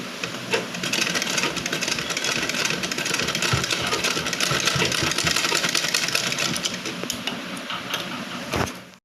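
A sewing machine stitches a golden border onto a round-neck blouse, running steadily and loudly for several seconds with a fast mechanical whir and clatter before stopping abruptly near the end.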